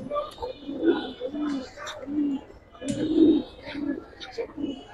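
Racing pigeons coo nearby in soft, repeated, throaty bursts, with several overlapping calls in a steady rhythm.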